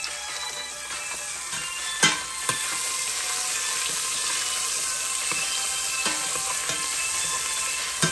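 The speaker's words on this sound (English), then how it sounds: "isosaute natin yung garlic and onion. So add na natin yung garlic." Garlic and onion sauté in a pan with a loud, constant sizzle, broken by a few sharp utensil clicks and scrapes.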